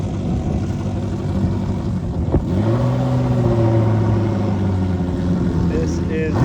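A Ferrari 360 supercar drives onto a field, its engine note rising and holding in a steady mid-range drone, close and loud, with people talking over it.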